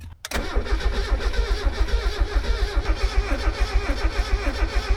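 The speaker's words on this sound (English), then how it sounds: "It's going to start. Yeah, well, it started for a moment." A Mazda Miata engine cranks and catches after a brief pause, settling into a loud, close, lumpy running rhythm with steady pulses; the car is a worn project car just fitted with a new exhaust.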